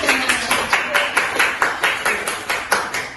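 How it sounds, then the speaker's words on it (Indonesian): A classroom of students claps together in a steady, even rhythm, with about a dozen sharp, loud claps in quick succession. "Tepuk tangan untuk semua"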